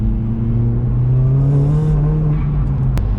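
A modified Mk1 Skoda Octavia vRS turbo engine runs loud and steady, its low drone shifting pitch slightly, with a brief sharp turbo flutter burst near the end.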